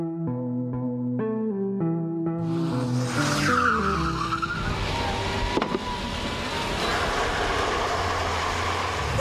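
Car tyres squealing loudly and continuously during handbrake turns and reverse spins, starting under a rising engine note with gear changes and then turning into a long, harsh skid with wavering pitch.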